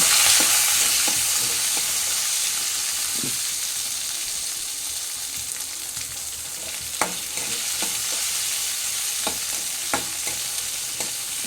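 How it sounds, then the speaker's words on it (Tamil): Onion, green chili, ginger and garlic are stirred in a frying pan, a steady broadband sizzle running throughout with scattered sharp clicks and scrapes of a utensil against the pan, close and fairly loud, with no talking. "பெரிய வெங்காயம் ஒன்று ரெண்டு பச்சை மிளகு ரெண்டு துண்டு இஞ்சி ஒரு பத்து பல் பூண்டு இதையும் இது கூட சேர்த்து கிண்டணும்"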